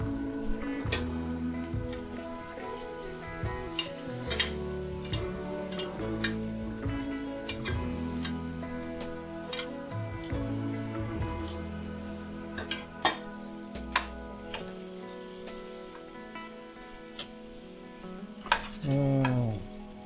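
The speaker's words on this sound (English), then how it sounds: "Now let's add the rest of our marinade sauce to this." Marinade sauce with lemon and garlic goes into a pan of curling squid, giving a steady sizzle along with clinks and scrapes of a utensil against the pan, close and fairly loud.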